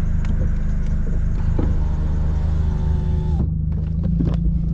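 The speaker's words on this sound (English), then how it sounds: "God, this thing's so loud." A loud Audi S4 engine and exhaust rumble steadily up close, a deep continuous drone with some faint whirring and clicks over it.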